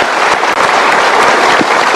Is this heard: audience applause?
yes